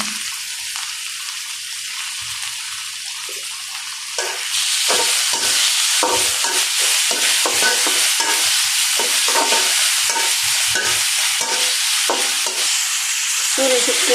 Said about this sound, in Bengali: রসুন আর পেঁয়াজ দিলাম চিংড়ি মাছ দিলাম